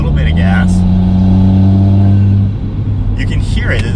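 Toyota Supra fitted with a Magnaflow active exhaust under light throttle at around 50 mph, a smooth, loud, steady engine drone and hum inside the cabin that fades after two seconds, with someone talking over it.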